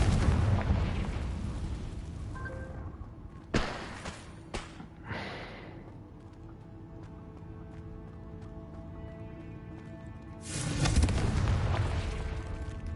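A Confringo blasting spell explodes in the Hogwarts Legacy video game, with several sharp booming blasts over a low rumble and a larger roaring burst near the end.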